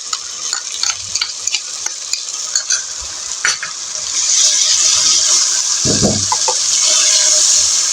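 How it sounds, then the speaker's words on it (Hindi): Onions sautéing in a pan with tomato paste for chicken masala kaleji: a steady loud sizzle with stirring scrapes and clicks, the frying hiss swelling louder midway and continuing without talk. "ये देखिए प्याज को हमने हल्का सा सौते कर लिया है, कलर हल्का सा आ गया है।"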